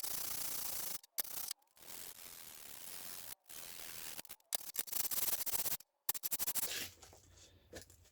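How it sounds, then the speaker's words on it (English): Rust being scrubbed off a hand plane's metal parts: rough rubbing strokes in bursts with short pauses, close and fairly loud, then lighter, finer scratching near the end. "We got a lot of rust, so the first thing I'm going to do is start cleaning this off."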